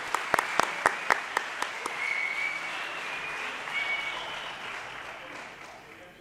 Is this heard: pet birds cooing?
no